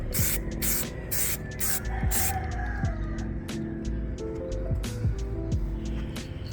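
Spray can coating being applied to plastic bumper trim on an Audi Allroad: several close hissing bursts early on, then a busy background of clicks and chirps with no speech.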